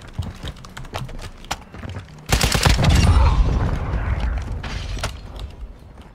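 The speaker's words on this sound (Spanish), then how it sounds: "Creo que están disparando desde la colina." A burst of video game gunfire in Call of Duty Warzone DMZ erupts partway through after scattered sharp clicks and taps, loud and rattling, then tails off into lingering rumble.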